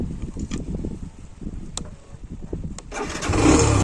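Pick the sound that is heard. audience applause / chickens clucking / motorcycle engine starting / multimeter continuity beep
motorcycle engine starting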